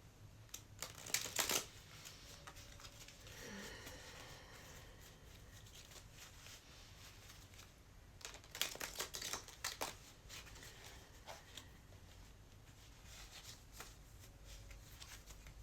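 Two short bursts of cards being shuffled, riffled rapidly and crisply, separated by a long quiet stretch with faint room noise.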